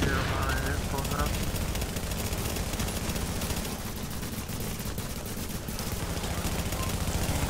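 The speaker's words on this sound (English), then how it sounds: "that turret doing a lot of damage" A video game turret fires continuously in a rapid, unbroken stream of loud shots amid other gunfire, with players talking over the barrage.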